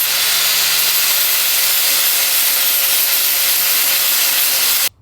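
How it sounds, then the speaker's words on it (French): An 80-grit sanding disc working aluminium on a motorcycle frame, a loud, steady, close abrasive hiss that holds throughout and then cuts off abruptly at the end. "J'y vais très doucement avec ça parce que là j'ai un disque de 80 et t'as vite fait d'enlever trop de matière."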